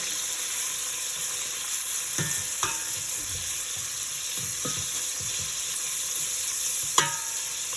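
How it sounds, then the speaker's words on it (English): Minced garlic sautés lightly in a pan for Cajun seasoning, giving a steady soft sizzle with a few sharp clinks and scrapes of a utensil against the pan. "So I'm just going to add my minced garlic. And give that a light saute."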